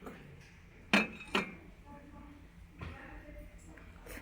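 Small ceramic plates and bowls clink together as they are handled in a shop, with two sharp close knocks followed by softer clatter, while a person speaks nearby.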